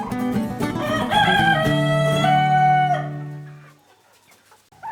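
Chickens and turkeys in a homestead coop and turkey run make a loud, overlapping stretch of crowing and clucking that fades out toward the end.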